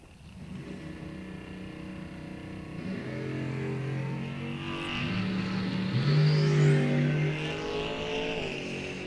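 A bright red rear-engine dragster at a bracket drag race start, its engine droning steadily and then rising in a loud revving roar that builds and holds, heard at moderate distance.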